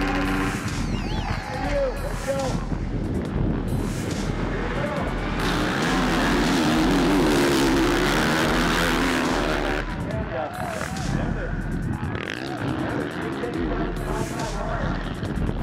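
Motocross bikes, including a Geico Honda race bike, roar off the starting gate and race at the TransWorld SLAM, a loud sustained engine drone with rising and falling revs and a commentator talking over it.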